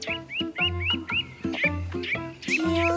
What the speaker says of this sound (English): What's got into you birds today? Are you gonna be that noisy for much longer?